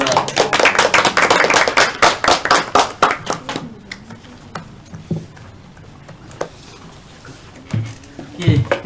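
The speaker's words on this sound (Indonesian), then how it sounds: "Berikan tepuk tangan untuk kelompok" Students in a geography microteaching class clap for a group that has just finished its presentation, a burst of quick claps for about four seconds that fades out, leaving a quiet room with a few faint knocks.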